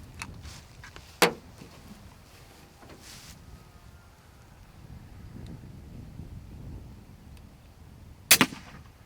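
Sharp airgun shot firing a 28 grain slug at 840 feet per second into a block of clay, a single loud crack near 8.3 s with a brief echo, following a fainter earlier pop against quiet outdoor wind noise.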